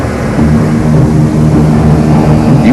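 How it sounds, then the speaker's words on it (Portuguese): A propeller airplane of Operação Okavango flies over the Victoria Nile, a loud continuous engine drone with a steady humming tone throughout. "E um avião da Operação Okavango já sobrevoa o Nilo Vitória"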